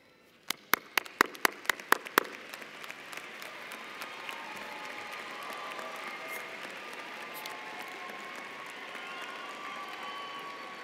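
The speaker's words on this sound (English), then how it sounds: "Graduates, please stand and give a round of applause to your community of" Graduates at a university commencement applaud their supporters: a few sharp, separate claps close by open, then a broad crowd applause swells and continues steadily, with scattered cheering in the large venue.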